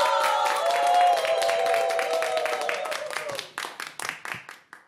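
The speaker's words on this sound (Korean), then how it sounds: "박수 주세요" A seated audience at a seniors' singing class claps in dense applause that gradually thins into scattered separate claps toward the end.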